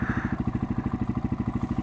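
A 125cc motorcycle engine running while riding, a fast regular low thumping pulse that stays steady and close throughout.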